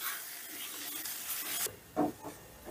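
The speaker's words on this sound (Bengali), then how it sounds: "এবারে মুসুর ডালটাও একটু নাড়াচাড়া করে শুকিয়ে নেব" Ground masoor lentil paste stirred and dried out in a pan, heard as a steady close scraping rasp of a spoon against the pan, with a brief louder scrape near the end.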